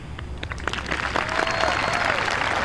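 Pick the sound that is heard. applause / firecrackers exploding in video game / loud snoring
applause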